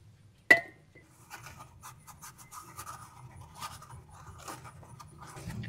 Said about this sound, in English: spray some brake parts cleaner on a rag and then clean the face of this piston right here